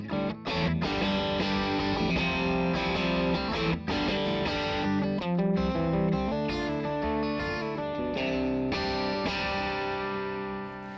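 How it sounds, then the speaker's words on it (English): Electric guitar through a VOX MV50 AC amp head voiced like an AC30, with chiming, crunchy overdriven chords and ringing notes played continuously and loud, with no talk. "The first one is called AC, and that's the classic chime and crunch of VOX's AC30."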